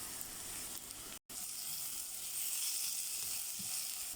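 Ginger and garlic fry in hot oil with a steady, bright sizzle, broken by one brief cut, then hissing on evenly with faint stirring bumps underneath.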